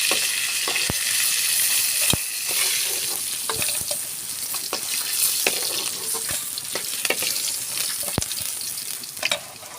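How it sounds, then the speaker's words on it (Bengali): Pieces of rohu fish fry in hot oil in a pan, a constant bright sizzle punctuated by scattered sharp clicks and taps from a utensil as the pieces are turned. "আমাদের মাছ ভাজা হয়ে গেছে, আমরা এক এক করে সব মাছগুলো উঠাই নিব।"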